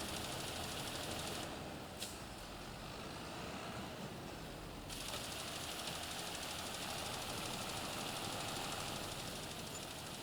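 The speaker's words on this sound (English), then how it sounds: "I'll jump on the John Deere tractor now." A John Deere tractor engine running steadily while finishing headlands in a field, a continuous loud drone with a faint knocking texture and one brief click, unbroken and with no voices.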